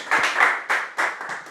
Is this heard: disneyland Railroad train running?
no